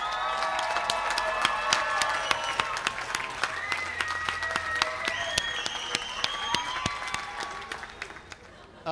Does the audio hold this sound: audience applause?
yes